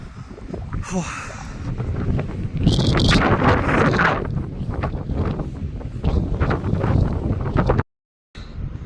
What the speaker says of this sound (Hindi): लामा टॉप के सबसे टॉप में खड़ा हूँ और यहाँ पे बहुत ही अच्छी हवा चल रही है